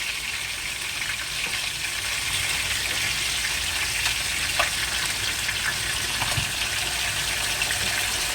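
A splash of water poured into a hot pan of frying onion and ginger garlic paste sets off a steady, close sizzling hiss that holds evenly throughout, with faint clicks and no talk.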